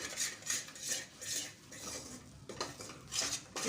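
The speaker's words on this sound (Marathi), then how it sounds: "तो तूप टाकल्यानंतर छान असं मिक्स करून घ्यायचं" A spoon scrapes and clinks repeatedly against a heavy-bottomed metal pan, stirring a cashew Mysore pak mixture with ghee, a steady rhythmic stirring with no voices, close and fairly quiet.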